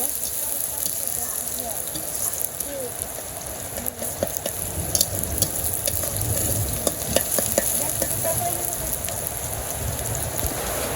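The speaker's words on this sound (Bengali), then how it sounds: "তো যে পেঁয়াজটা ভাজা হয়ে গেছে" Onions frying in a pan for village-style chicken, a steady dense crackling sizzle with occasional stirring scrapes, close and continuous, while heavy rain falls outside.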